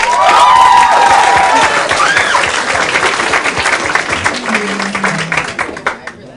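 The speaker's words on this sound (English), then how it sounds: "Applaud that poet." Loud audience applause mixed with cheering and shouts at a high school poetry slam, sustained across the clip and tapering slightly toward the end.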